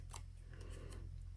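Scissors snip paper for a planner journal in two or three quick, close cuts over quiet room tone.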